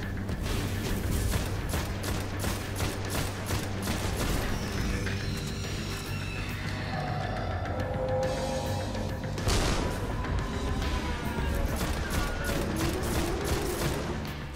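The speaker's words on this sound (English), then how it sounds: "sitting in like one area shooting the shit out of a guy" Gunfire from a shooter game, Destiny on Xbox One, with dense sustained rapid shots and mechanical clatter over steady game noise, no talking.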